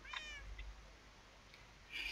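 A single short cat meow from a video game hide-and-seek minigame, quick and fairly faint, followed by a quiet stretch and a brighter burst near the end.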